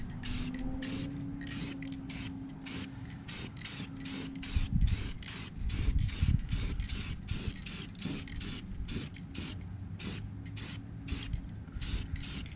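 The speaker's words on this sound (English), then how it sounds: "Do a little test spray." Paint sprayed from an aerosol can onto 1981 GMC wheels in a rapid series of short, regular hissing bursts, close and fairly loud over a low background hum.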